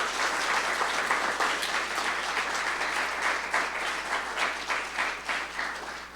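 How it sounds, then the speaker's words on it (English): An audience at a university keynote event applauds, dense sustained clapping from many hands filling the hall steadily for several seconds, easing slightly toward the end. "Please, round of applause."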